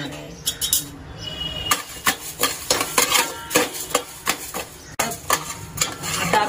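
Coriander seeds dry-roasting in a pan, stirred with repeated scraping and rattling strokes in a steady, uneven rhythm, close and moderately loud with a faint hiss underneath.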